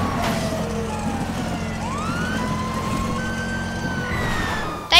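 Police car siren in GTA V, a wailing tone sweeping up and down steadily across the whole stretch over a low engine drone, with a brief sharp burst near the end.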